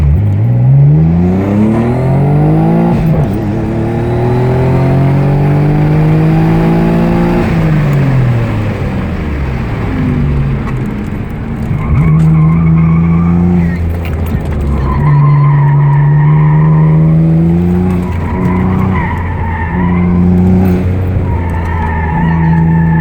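A twin-turbo, all-wheel-drive Dodge Stealth making about 380 wheel horsepower on 18G turbos, heard as a loud engine revving and rising through its gears, with tires squealing and a sustained engine drone that falls and climbs again.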